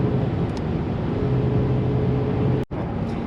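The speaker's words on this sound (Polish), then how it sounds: "ten dźwięk V12." A BMW 850Ci E31 V12 engine drones deep and smooth with a low harmonic hum, close and loud, briefly cutting out near the end before resuming.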